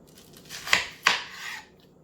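Knife slicing down through the middle of an onion, two sharp crisp cuts about a third of a second apart, each with a brief crunchy scrape, close and fairly quiet.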